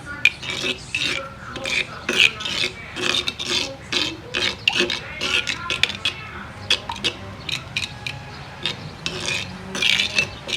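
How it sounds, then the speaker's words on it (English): Spoon scraping and stirring chicken fajita marinade in a bowl, a steady series of short rasping strokes repeating in an uneven rhythm, close and fairly loud with no talking. "I'm gonna go in with a spoon. And I'm just gonna mix it all up together like that"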